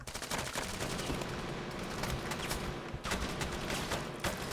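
Dense full-auto weapon fire in the Halo-themed Arma 3 military shooter during close-quarters combat, a loud continuous hammering of rapid shots with only brief breaks, close and filling the whole stretch.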